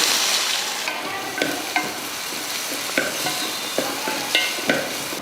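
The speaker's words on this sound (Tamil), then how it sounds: "வெங்காயம் பாருங்கள் இந்த மாதிரி நல்லா பொன்னிறமாக வதங்கிருச்சு" Onions sizzle steadily in hot oil with curry leaves while frying golden for chicken pepper gravy, with a few louder clinks and scrapes of stirring recurring every second or so, and no voices.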